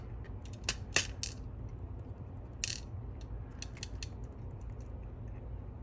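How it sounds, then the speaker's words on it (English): Small metal parts rattle and click as key control pins are worked out of a disassembled Mottura CP6 dimple lock with rotors: scattered sharp ticks and light metallic clinks, close but quiet, with no talking. "Let's see if we can just get the key control pins out."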